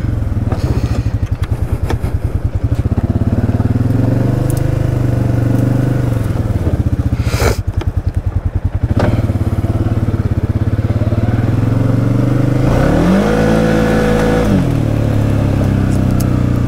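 A loud, close Can-Am Outlander 700 ATV engine revs hard and accelerates, its rough throbbing note rising and falling in pitch, with brief crackles as it settles.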